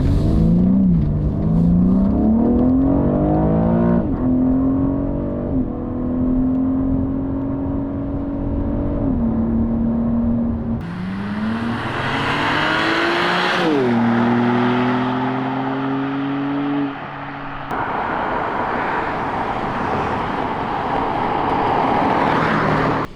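An Audi TT RS drives past on the road, its engine revving and shifting through gears with rising and falling whine, loud and close, then receding under steady road noise.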